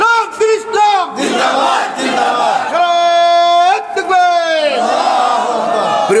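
Large crowd at an Islamic waz mahfil in Moulvibazar raising hands and chanting slogans in unison, loud, sustained massed voices with rising and falling shouted phrases.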